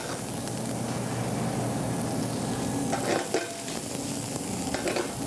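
Garlic and minced onion frying in olive oil in a restaurant kitchen while being stirred, a steady close sizzle with soft scraping and stirring strokes throughout.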